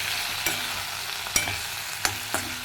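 Turmeric and salt sizzle softly in a pan under a steady frying hiss, with a few sharp scrapes and taps from stirring spaced through the clip.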